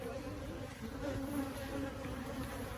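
Bees from an aggressive, disorganized hive buzz in a dense, continuous drone, close and fairly loud, with no voices.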